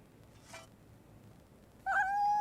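A kitten gives a single clear, high meow close to the microphone near the end, after a faint earlier squeak over a quiet room background.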